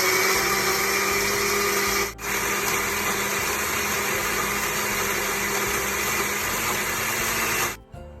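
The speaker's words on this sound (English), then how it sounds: "And then I'm gonna blend all of this together." Countertop blender whirring loudly and steadily as it purees sauce ingredients including fish sauce for Thai poached chicken with ginger rice, a brief dip midway and the motor cutting off near the end.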